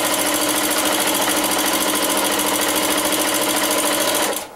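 A sewing machine quilting fabric runs loud and continuous at a steady, rapid pace, a close mechanical whirr with a rhythmic needle chatter, cutting off abruptly near the end.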